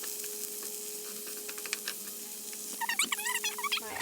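Oil crackles and sizzles steadily while coating a cooking pan, a fine continuous hiss with scattered pops and a brighter burst of spitting toward the end, close and fairly quiet.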